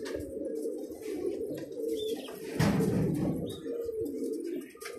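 A Belgian pigeon coos in low, rolling, throaty murmurs that rise and fall continuously and close by, with a brief louder rustle in the middle.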